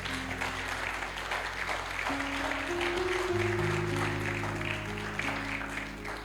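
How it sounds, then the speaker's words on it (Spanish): A church congregation at a Spanish-language service applauds in a steady, dense wash of clapping that lasts throughout. A sustained tone, like an organ or keyboard, plays underneath. "Si quiere, le da un aplauso al Señor."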